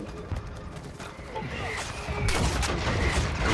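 Gunfire in Call of Duty: Modern Warfare II, a dense rattle of shots and impacts that builds from moderate to loud, with a sharp burst partway through and background rumble throughout.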